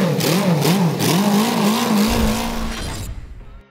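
A high-revving Moto Guzzi V8 racing motorcycle engine roars steadily with pitch rising and falling, then drops to a lower rumble before cutting off.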